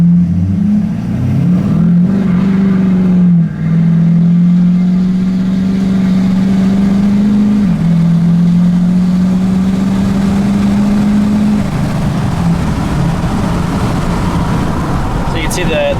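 A 2011 Ford F350 with a replacement 6.7 Powerstroke diesel pulls away from a standstill, and a loud, close engine drone holds strong and climbs slightly, then eases off toward the end.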